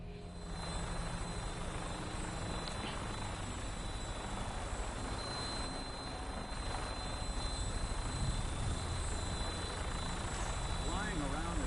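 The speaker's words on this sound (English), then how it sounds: "Flying around in a 200-year-old aircraft?" Aircraft engine droning steadily in Fallout 4 as a 200-year-old aircraft flies along, a continuous loud rotor-like hum with a minigun mounted in front, with no gaps across the whole stretch.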